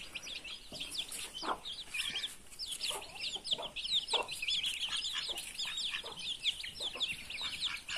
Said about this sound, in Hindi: छोटे छोटे मुर्गा खा रही है